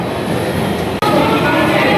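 A steady, loud rumble fills a platform at Howrah railway station where a train stands, with a brief dropout near the middle before the noise returns.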